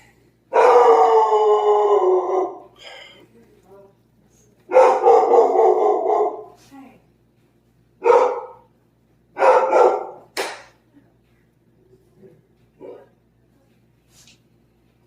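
A dog barks and howls excitedly in several loud, drawn-out bursts separated by pauses, close by, with a few fainter yips trailing off near the end.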